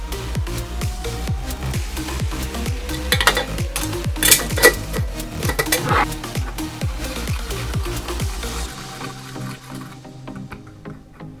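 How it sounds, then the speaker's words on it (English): A utensil stirs water and baking soda in a bowl to make a slime fix, giving quick, rhythmic clinks and scrapes against the bowl that slow and stop near the end. "all you do is you add a little bit of water to your bowl, and then you're just going to add in some of the baking soda"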